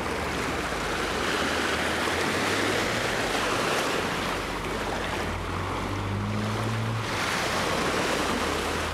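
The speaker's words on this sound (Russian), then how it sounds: "This beach is awesome." Ocean surf at Fairyland Beach on Mahé, Seychelles, rolls in as a steady, broad wash of breaking waves with a low rumble beneath, continuous and fairly close throughout, with no voices.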